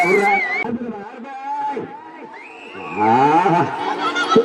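Bulls at a manjuvirattu bull-taming event in Thuvar, where more than 200 bulls took part, let out several loud, drawn-out moos close by, mixed with crowd voices and shouting.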